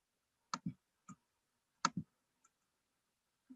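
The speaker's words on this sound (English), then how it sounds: "I can narrow it down some more just by clicking the X in the corner" Quiet mouse clicks while using Cricut design software, coming as single and paired taps spaced irregularly against near silence.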